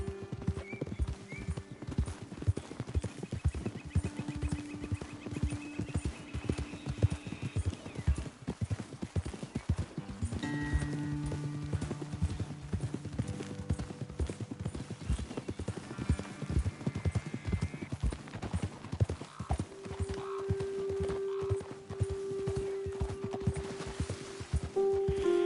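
Hooves clip-clop in a steady rhythm as horses are ridden in Red Dead Redemption 2, a faint game soundscape with occasional tonal music-like notes underneath.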